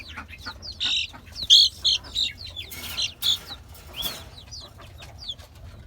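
Young desi chickens kept on a rooftop give a run of close, sharp clucks and high chirps in repeated bursts over a steady low hum, with no talking.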